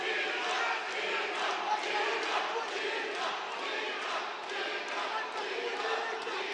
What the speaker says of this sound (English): We got the crowd throwing those cheers right now